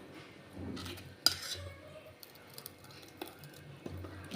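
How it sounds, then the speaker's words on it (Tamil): A spoon scraping and clinking against a bowl while dosa batter is stirred, with faint wet squishes and a sharp clink near the start, sporadic and close but fairly quiet. "பாருங்க நல்லா கலந்துட்டேன் இப்போ மாவு வந்து ரெடியாக இருக்குது"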